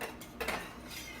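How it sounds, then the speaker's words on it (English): A spoon clinks softly against a pot while stirring cream cheese into a cozy fall soup, two or three light scrapes and taps, quiet and close, with no talking. "I'm just going to stir that together so the cream cheese is all melted."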